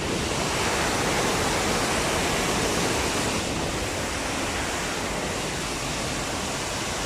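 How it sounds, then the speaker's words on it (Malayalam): A waterfall roars in a dense, constant broadband rush, loud and unbroken, with no voices. "ഇതിൻ്റെ താഴെയും നല്ല വെള്ളച്ചാട്ടമുണ്ട് ഗൈസ്"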